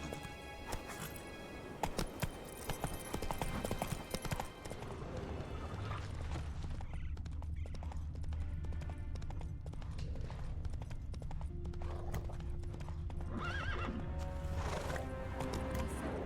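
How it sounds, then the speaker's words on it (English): Hooves of a galloping horse in The Witcher 3 video game pound in a rapid clip-clop, with whinnies and game mechanisms, under a busy, dense layer of in-game sound and music, without talk. "Run, Roach"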